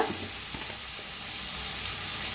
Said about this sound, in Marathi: आता छान भाजायला लागले टमाटो कांदा